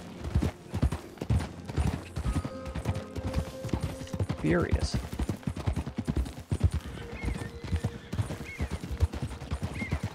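Horse hooves walking in Red Dead Redemption 2, a steady near clip-clop of hoofbeats along a waterfall edge, with a horse whinny partway through and someone talking over it.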